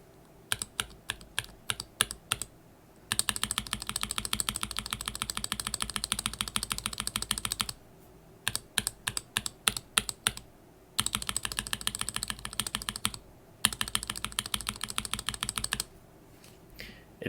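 Typing on a mechanical keyboard whose switches carry Kailh Polia stems, some stock and some lubed, in bursts of rapid, close, crisp clacks separated by isolated single keystrokes and short pauses.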